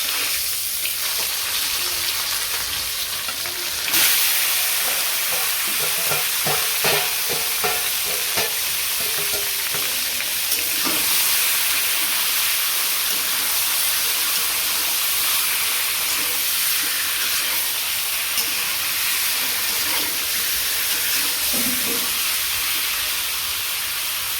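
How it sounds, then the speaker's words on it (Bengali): Steady, loud sizzling of meat frying in oil in a pan, with stirring scrapes and clatters early on and a constant hiss throughout. "মাংস ভাজা শেষ হালকা করে ভেজে নিন"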